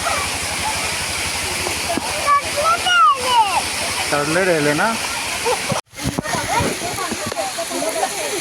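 After heavy rain, a waterfall in a residential colony rushes with a constant loud hiss and splash, while people talk and call out nearby over the roar.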